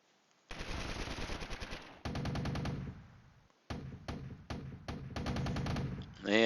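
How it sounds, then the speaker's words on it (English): An M163 anti-aircraft gun in the Flashpoint Campaigns video game fires 20mm rounds in loud, rapid mechanical bursts, several long strings of shots separated by brief pauses, with no talking. "my M163 is firing away, flinging 20mm ammunition into the sky"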